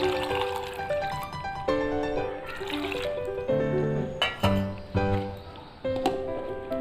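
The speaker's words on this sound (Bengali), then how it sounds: "দিয়ে পরিমাণ মতো জল দিয়ে দেব" Water is poured into a mixer jar holding boiled raw mangoes, giving irregular trickling and glugging splashes with bright ringing tones, close and fairly quiet.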